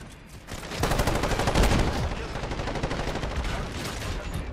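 A VTOL aircraft strafing with rapid automatic gunfire in Call of Duty Modern Warfare during a Hardpoint match, loud sustained bursts that swell and persist for several seconds.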